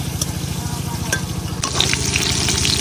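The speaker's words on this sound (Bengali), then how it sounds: "ডিমগুলারে এখন একটু ভাজে নিয়াম হালকা" Duck eggs fry lightly in a pan with a close, steady sizzle; a rougher burst of spattering and stirring joins partway through, and no one speaks.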